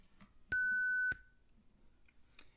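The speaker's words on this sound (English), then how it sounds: "it also beeps to tell you that it has reached the end of the tape" One clear electronic beep from a cassette Walkman signalling the end of the tape, steady and about half a second long, sounds close up against a quiet background with faint clicks.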